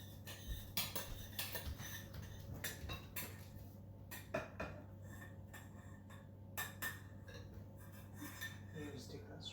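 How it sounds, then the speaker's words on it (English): Pectin is dumped from a pan into strawberry jam for Tupperware freezer jam, a quiet run of scraping, clinking utensil and dish sounds close by with no talk. "she will dump it straight out of the pan into the strawberry jam"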